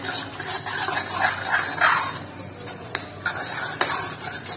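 Yogurt is stirred into frying masala in a pan for a mushroom curry, with steady scraping and clinking of a spoon against the metal pan over a soft sizzle and a few sharp taps near the end.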